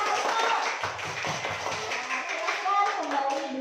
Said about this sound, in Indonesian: Ya, beri tepuk tangannya untuk kelompok Soeharto.